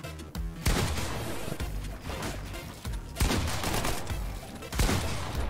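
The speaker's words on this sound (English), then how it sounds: "the tree just blocked that shot" Gunfire in a battle royale shooter game, several sharp heavy blasts at irregular intervals with rattling tails in between, loud and close, with no talking over them.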